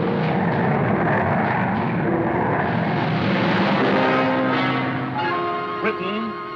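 Jet aircraft roaring overhead, a loud, continuous broadband rush that swells steadily through the pass, with a faint tonal hum appearing near the end.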